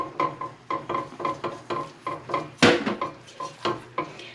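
A roux of flour, salt and pepper stirred into melted butter in a pot for scalloped potatoes and ham: a steady rhythmic run of scraping spoon strokes against the pot, close and regular, with one louder clank midway.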